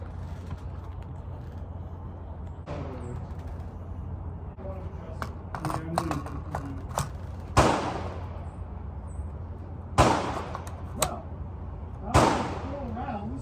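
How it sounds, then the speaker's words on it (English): Unsuppressed shots from a 6.5 Grendel rifle at a range: three loud, sharp cracks spaced a few seconds apart, standing out against a steady low background rumble, with brief talk in between. "shooting without a suppressor"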